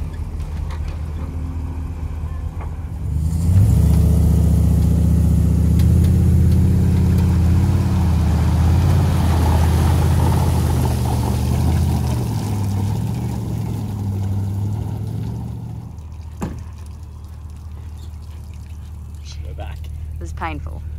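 A boat engine roars steadily through rough water on a trip around the Great Barrier Reef, loud and close, with water rushing around it, then fades to a lower rumble near the end.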